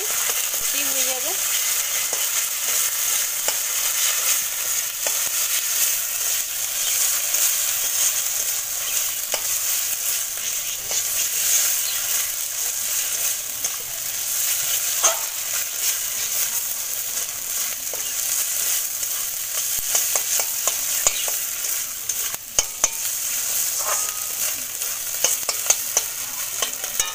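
Spice masala with cashew paste and a splash of water frying in a pan, a continuous loud sizzle with steady stirring and scraping of a spoon throughout, clicks and taps near the end, no voices.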